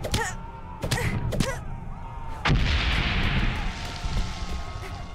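Several sharp explosive blasts go off in quick succession, followed by a sustained rumbling burst, explosions in the video game Valiant Hearts: The Great War at moderate volume.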